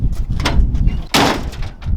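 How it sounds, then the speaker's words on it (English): The heavy door of a work truck thuds shut once midway, a loud close-up slam set between rustling and handling noises. "is a heavy frickin' door now though"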